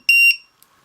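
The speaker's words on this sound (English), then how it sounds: "It's having a buzzer. Played the sound, very loud sound, to let you know that it's discharged" One loud, shrill electronic beep, lasting about a quarter second and heard alone at close range, comes from a buzzer alarm on an RC battery checker, followed by near silence.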